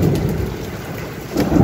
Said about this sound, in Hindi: जो बारिश की आवाज आ रही है वो कितनी तेज आवाज आ रही है बारिश की